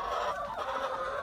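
Chickens in a coop give close, busy clucking and honking calls that overlap continuously for a brief moment, no speech.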